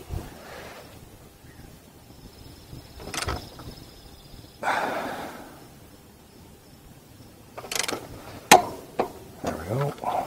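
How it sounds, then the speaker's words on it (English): Torque wrench tightening the rear axle nut on a 2019-2024 Royal Enfield Continental GT or Interceptor 650, giving a few sharp mechanical clicks and ratchet ticks near the end, with quieter handling noises before. "rear axle, I'm going to torque that 52 foot-pounds or 70 Newton meters"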